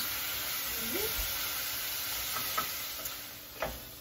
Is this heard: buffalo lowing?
no